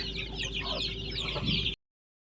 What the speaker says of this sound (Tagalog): ayan ang mga manok dito